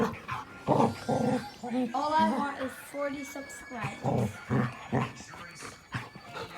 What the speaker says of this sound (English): These dogs are very crazy. Just because of this one toy.